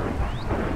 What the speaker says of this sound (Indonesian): Petirnya serem banget itu.